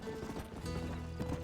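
A herd of horses in the Red Dead Redemption game clip-clops along in a quick, overlapping patter of hooves, set against a low rumbling game soundscape.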